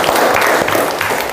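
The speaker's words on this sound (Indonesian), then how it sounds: "Tepuk tangan untuk kita semua." Dense applause from a group of people fills the moment at a teacher training session, a steady wash of clapping with no voices on top.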